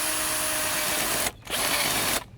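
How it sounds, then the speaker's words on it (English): A power drill drives a hose clamp tight on the intake filter pipe of a 2001 Honda Odyssey short ram intake, whirring steadily in two close bursts split by a short pause. "we can go ahead and tighten down the hose clamp that connects to the filter pipe."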